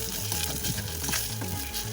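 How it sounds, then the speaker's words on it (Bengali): Koi fish fry in plenty of hot oil in a pan, giving a dense, continuous crackling sizzle with small pops and no voices. "দেখুন মাছগুলো ভাজা হচ্ছে"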